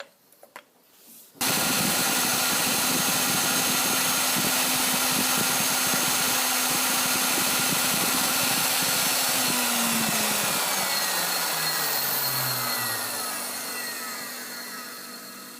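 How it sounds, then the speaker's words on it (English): Grinder making a trial pass on R8 tooling for a Bridgeport mill, starting abruptly after a few faint clicks into a loud, steady abrasive whine and rasp, then the motor pitch slides down as it spins down near the end. "So we'll just have one more trial grind."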